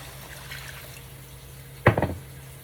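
Water is poured into a pan of thick gravy for Salisbury steaks, a brief splashing gurgle of a few seconds after a quiet stretch with a low steady hum.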